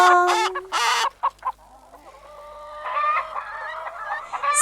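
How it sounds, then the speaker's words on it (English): A farm chicken clucks in short, bright bursts, the early calls loud and close, then softer scattered clucking and a brief crow-like call over a quiet background. "The chicken on the farm says cluck, cluck, cluck."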